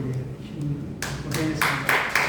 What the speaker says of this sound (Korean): 우리 한번 박수 한번 칠게요.